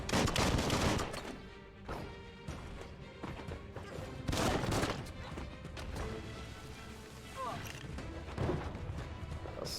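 Gunfire aimed at the Rockaboom in the video game Biomutant, with repeated sharp bursts and crashing impacts over busy game noise, loudest near the start and again around the middle.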